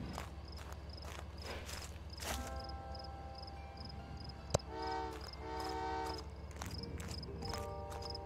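Rhythmic chirping and mechanical ambience of a train in the video game Old Man's Journey, with a sharp click and short tonal bursts like a horn or chime sounding midway.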